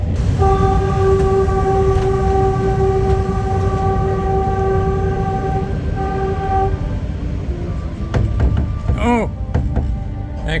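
A train passes within half a metre of houses, its horn blaring in a long steady blast over a heavy close rumble of railcars, with a brief voice near the end.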